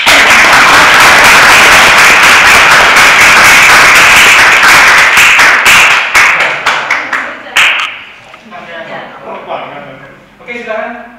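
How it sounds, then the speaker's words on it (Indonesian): Classroom audience applauding for a group of students, dense steady clapping from many hands that thins into scattered individual claps and fades out toward the end. "Tepuk tangan dong."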